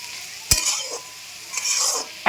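Vegetables for Bengali fried rice sizzle in a hot pan as a utensil stirs them, with two sharp scraping clanks at the start and end and a bright, hissing fry in between.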